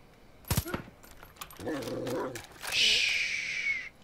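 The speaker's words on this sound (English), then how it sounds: "Yeah, there's another dog." A dog in Far Cry 5 gives a couple of short barks and whimpering yips at moderate distance, mixed with other game sounds and a brief voice, over a quiet background.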